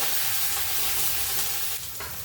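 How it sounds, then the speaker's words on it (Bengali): Sliced onion hitting hot oil with tempering spices and curry leaves, a dense continuous sizzle with stirring scrapes, close and loud, no voices. "এবারে একটু পেঁয়াজ দিয়ে দেবো।"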